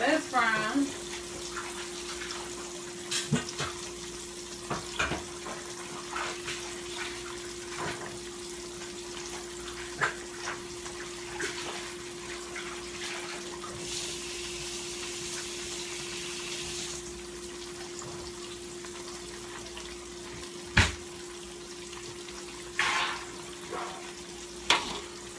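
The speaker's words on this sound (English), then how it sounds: "get this pan washed up" Tap water runs into a kitchen sink as a frying pan used for burgers is washed, a steady faint rush with occasional clinks and knocks, alongside a low constant hum.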